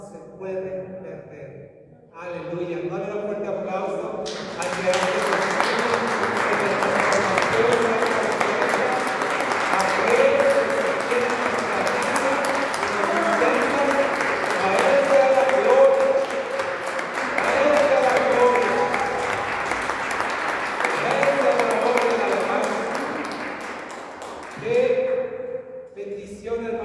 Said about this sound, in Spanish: No le da un fuerte aplauso al Creador.